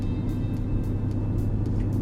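A 2008 BMW M3 E90 with a V8 engine drives steadily from inside the cabin, a continuous low rumble and hum with no voices over it.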